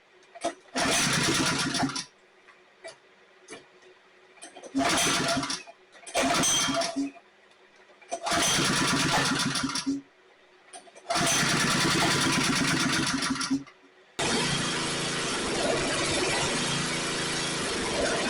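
A small engine with a newly installed carburetor, choke on, starts in several loud bursts that sputter and cut out between pulls, then catches and runs steadily near at hand for the last few seconds.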